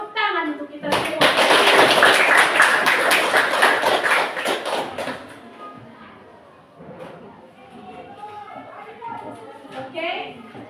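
Applause in a classroom: a burst of many hands clapping together for about four seconds, then fading into children's chatter and scattered voices.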